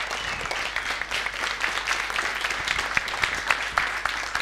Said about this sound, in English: Give a massive round of applause for Michael Terespolsky.